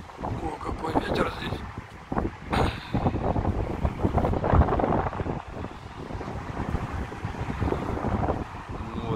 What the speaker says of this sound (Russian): О, какой ветер